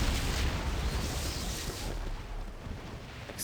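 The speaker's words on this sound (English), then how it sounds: "Explosions." Loud, rumbling in-game explosions during a siege in the fantasy RPG Baldur's Gate 2, a dense continuous roar with booming low end and no talk over it.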